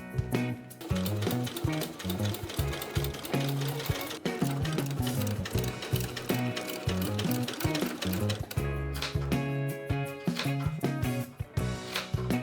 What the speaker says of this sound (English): sewing the side seams before clipping and pressing